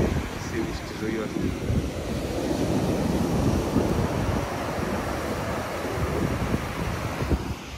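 Black Sea surf and strong wind on the shore at Sochi in January, a steady roar of breaking waves with gusty microphone buffeting throughout, loud and close, with no clear talk over it.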